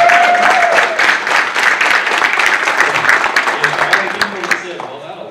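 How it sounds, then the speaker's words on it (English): Applause and clapping from a crowd filling a room at a PDRA drag racing press conference, steady then tapering off, with voices mixed in. "round of applause for everybody in the room"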